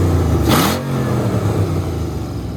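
A turbocharged BMW E36 fitted with an Audi R8 ignition system revs up close and loud, a steady engine drone with one brief rasping burst early on.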